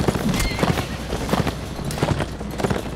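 Rapid hoof clip-clops of a horse in the video game Mount & Blade: Warband, with a whinny in between, loud and close, continuous for the whole stretch.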